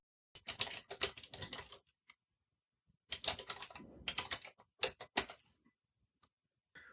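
Keys clatter on a computer keyboard during word processing in LibreOffice Writer, in two dense bursts of rapid tapping with a pause between them, then a few isolated keystrokes, close and fairly quiet.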